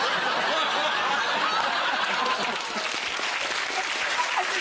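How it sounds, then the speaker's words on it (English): A studio audience on a talk show breaks into steady, loud applause mixed with scattered laughter and chuckles, a continuous crowd wash lasting the whole stretch. "These are women in the front row clapping and laughing because they don't believe you."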